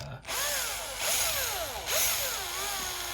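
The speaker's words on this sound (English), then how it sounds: "I take my drill and I'll drill a pilot hole right in the center here" A power drill whines steadily at close range, drilling a pilot hole, its pitch rising and dipping in short sweeps as the bit bites into material.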